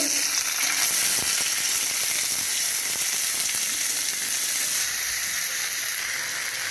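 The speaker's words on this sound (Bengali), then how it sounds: "এবার পেঁয়াজগুলো দিয়ে দেবো" Onions dropped into hot oil tempered with cumin, garlic and dried red chili for a chana dal recipe, a loud continuous sizzle and steamy hiss up close, with a faint stir or two and no talking.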